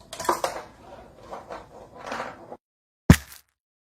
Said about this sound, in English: The snare drum is two coasters with a contact microphone and a box filled with basmati rice.